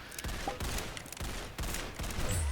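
Rapid, rhythmic gunfire bursts from the Roblox game Arsenal, repeating in close succession at steady loudness with no talking over them.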